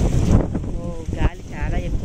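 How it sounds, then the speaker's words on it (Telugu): Strong wind gusts buffet the microphone in a home vegetable garden during a ridge gourd harvest, a loud rumbling roar with people talking faintly beneath it. "గాలి చాలా ఎక్కువగా ఉంది."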